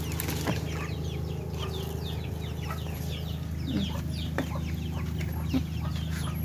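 Two-week-old chickens cluck and peep in a farm setting, with scattered chirps, a few wing flaps, and a steady low background hum, nearby and moderately loud without speech.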